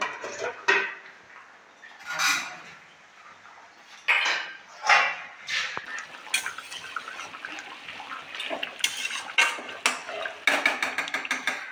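Metal spoon stirring prawn curry with cauliflower, potato and carrot in a cooking pot, then a lid set on top; repeated clinks, scrapes and clatters come in short bursts at close range, with no talk.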